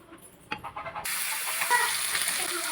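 Fish dropped into hot oil in a home kitchen for lunch, a faint clatter followed by a sudden, steady hiss of sizzling that continues quietly to the end.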